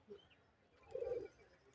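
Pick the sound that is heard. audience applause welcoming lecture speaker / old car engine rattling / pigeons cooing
pigeons cooing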